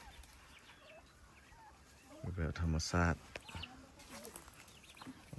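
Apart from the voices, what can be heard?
turkey and chickens calling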